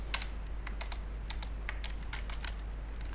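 Quick, light keystrokes tapping out a short burst on a computer keyboard, crisp and close with an uneven rhythm over a steady low electrical hum, no voices.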